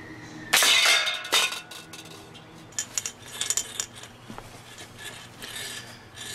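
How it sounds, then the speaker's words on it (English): Slingshot shot striking a soda can: a sharp metallic crack and rattle near the start, a second impact soon after, then a flurry of lighter clinks and scrapes fading off, with no talk. "And now we're gonna shoot the soda can."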